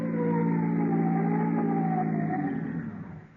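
A police car siren sound effect from a 1935 radio comedy broadcast wails loud and steady, holding a sustained howling tone before winding down and fading at the end, with no talk over it.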